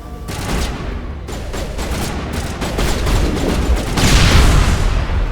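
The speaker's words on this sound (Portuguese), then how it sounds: "Joga a granada. Isso. Explode." Rapid gunfire and a grenade blast in Mass Effect Legendary Edition combat, dense loud bursts of shots building into a heavier boom near the end.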